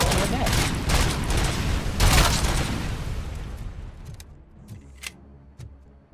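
Heavy weapon fire from the Judge Dredd gun in a video game, a loud volley of blasts and booms that gradually thins into a few scattered sharp shots and fading rumble.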